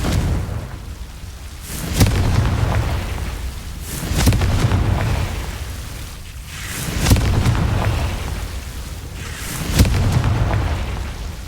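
Repeated booming blasts from the Confringo fire spell in Hogwarts Legacy, a series of heavy explosions roughly every two to three seconds over a low rumbling game soundtrack, with no talking.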